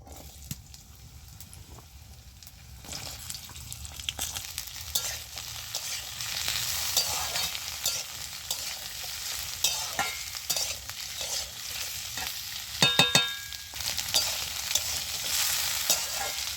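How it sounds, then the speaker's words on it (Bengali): Potatoes hit hot oil in a pan at home, a steady sizzle building as they are stirred, with scraping and bubbling close by. "আমি এবারে তেলের মধ্যে আলুটা দিয়ে দিচ্ছি প্রথমে।"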